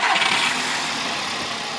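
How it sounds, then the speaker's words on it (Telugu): A 2012 Skoda Rapid's engine turns over and runs, producing a loud, close, steady mechanical roar and hum over a brief span with no speech. "ఒకసారి ఇంజిన్ అనేది స్టార్ట్ చేస్తాను, చూపించండి."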